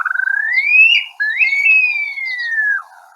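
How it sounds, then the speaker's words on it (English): A long, rising then slowly falling whistled call of an upland sandpiper, clear and alone against silence, with a brief break midway. "Upland sandpiper."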